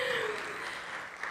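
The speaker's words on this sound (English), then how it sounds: "if we could give her a round of applause, please" Brief applause for Officer Rodriguez at a ceremony honoring women leaders, a short, soft wash of clapping with a voice trailing off at the start.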